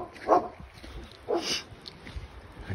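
A dog barks twice at close range, two sharp separate yelps spaced about a second apart, outdoors by a house's front walkway, with quiet ambient noise between them.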